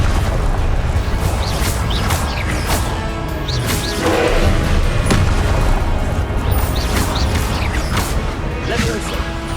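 Confringo blasting-spell explosions in the Hogwarts Legacy video game, a dense run of booms, crashes and whooshes over loud continuous game sound, with voices calling spells throughout.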